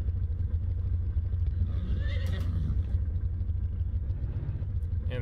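Race horses in the farming video game Farming Simulator 19 give a single whinny midway, heard over a constant low engine rumble from a running vehicle.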